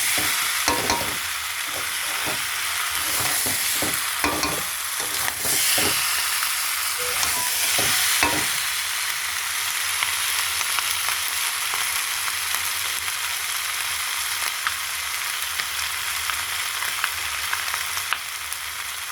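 Food sautés in a pan with a constant sizzle, while stirring strokes scrape and clatter in a quick burst early on before settling into steady frying alone.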